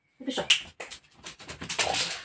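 A dog whimpers indoors in a home during a Sunday makeup session, giving a few short, close, whiny cries with brief gaps between them.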